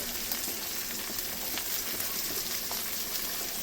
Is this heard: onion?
yes